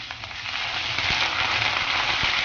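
A tablespoon of ginger garlic paste hits hot oil with golden brown fried onions for an Andhra chicken curry, giving a loud, steady, bright sizzle with a few soft crackles throughout.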